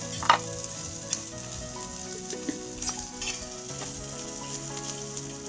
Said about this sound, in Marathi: कांदा आणि मिरची पण याच्यामध्ये भाजून घेऊया आपण तेलामध्ये